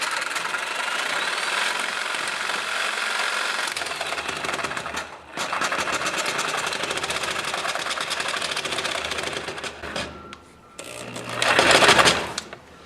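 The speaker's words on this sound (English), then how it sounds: "now I'll do the sawzall" A reciprocating saw cuts through deer skull bone in bursts of loud, buzzing rapid strokes, with short pauses between cuts and a harsher, louder stretch near the end.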